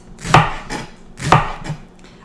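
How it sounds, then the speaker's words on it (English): A knife chopping through a large leek on a cutting board, two firm close thuds about a second apart, each followed by a lighter tap. "I'm gonna start chopping my leeks."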